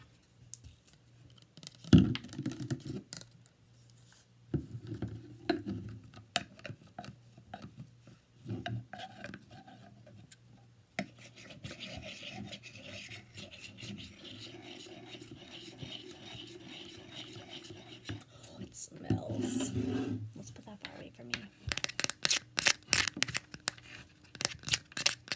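Close, quiet tapping and scratching on a nail polish remover bottle's lid, irregular fingernail clicks and rasping scrapes in clusters, with sharper rapid tapping near the end.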